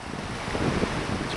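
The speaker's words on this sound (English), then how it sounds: "We're here by the windy ocean." Wind gusting and waves washing at a windy ocean inlet beach, a steady broadband rush with wind buffeting the microphone, continuous and fairly close, no voices.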